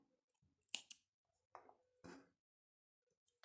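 Scissors snip the leftover yarn from a knitted leaf, a few close, crisp cuts with clicking blades separated by quiet pauses.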